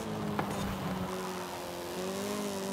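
A car racing in Forza Horizon holds a steady engine drone with a brief tire squeal near the start, rising slightly in pitch as it accelerates, with no voices.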